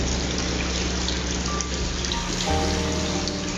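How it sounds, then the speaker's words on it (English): Water drains from an aquaponics grow bed through a tripped bell siphon back into the fish tank, a steady, close rushing gurgle with a low pump-like hum underneath throughout. "the bell siphon trips, and then all of the water is drained back into the fish tank"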